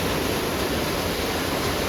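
A swollen stream rushes during heavy monsoon rain, giving a dense, steady broadband roar of flowing water that stays even and close throughout the short stretch, with no voices.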